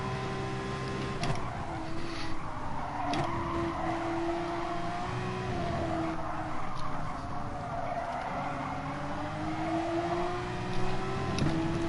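Racing car engines drone steadily in Gran Turismo Sport during an online FIA race, with a Nissan pulling away ahead despite the slipstream; a continuous loud engine whine shifts pitch with gear changes, and tires squeal now and then.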